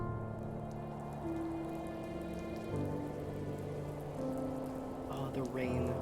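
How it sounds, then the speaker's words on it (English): Rain falling in a video game, a steady soft hiss of drops spread evenly under a low sustained musical drone, with faint talking partly buried beneath. "Oh, the rain. The rain sound,"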